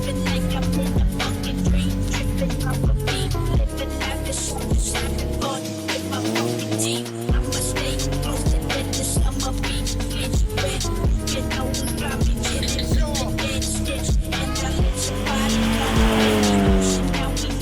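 A Mazda Miata drifts up a snowy hill, its engine revving hard and falling in long surges with continuous tire and drivetrain whine, loud and close throughout, with a little background talk.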